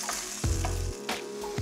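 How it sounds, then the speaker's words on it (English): Four anchovy fillets sizzle and spit in hot oil in a pan, with crackling bursts of frying heard up close and no voices. "4 fillets of anchovy, one of those classic combinations, because they give that piquant, salty flavour that you can't get from anything else. Just give those a little sizzle."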